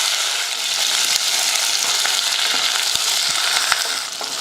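Garlic, small onions, curry leaves, green chillies and spices fry in hot oil with a loud, dense, continuous sizzle, broken by a few faint stirring knocks.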